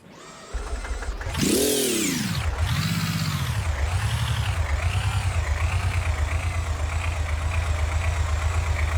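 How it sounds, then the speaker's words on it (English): A vehicle engine in the Gear Blocks video game cranks and catches, then settles into a steady, smooth idle with a low, even rumble that continues to the end. "Once the engine gets to its idle, it idles nice and smooth."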